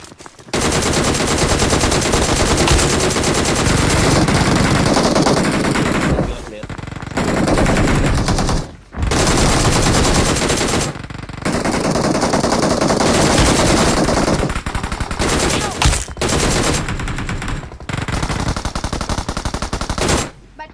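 Rapid automatic gunfire and bursts of shots in a squad fight in a mobile shooter game, loud and nearly continuous, broken by a few brief pauses, with some voice underneath.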